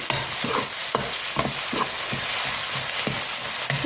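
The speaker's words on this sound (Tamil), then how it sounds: "நல்லா வதங்கிட்டோம் பார்த்திங்கன்னா வெங்காயம் இந்த அளவுக்கு வெந்துருச்சு" Crushed shallots for a mutton bone curry sizzle and fry in a pan while being stirred, with a steady close hiss broken by regular scraping stir strokes.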